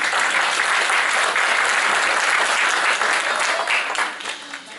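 An audience at a school Christmas show applauds loudly and steadily, a dense wash of clapping that fades slightly at the end.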